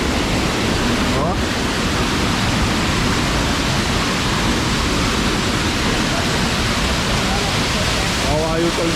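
Steady, loud broadband rush of the Cachoeira da Pedra Furada waterfall in Amazonas fills the whole stretch without a break, with a couple of brief voices surfacing near the start and end.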